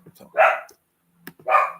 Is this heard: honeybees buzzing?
no